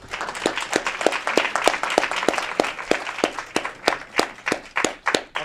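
An audience applauds to honor the Aurora Actionaires at an Aurora city committee meeting, a steady patter of distinct handclaps from a modest crowd, clear and fairly close, swelling slightly toward the end.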